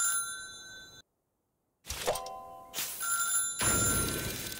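Telephone ringing inside the video game Little Big Workshop, bright electronic bell bursts repeating in short rings with a brief silent gap, clear and alone without talk.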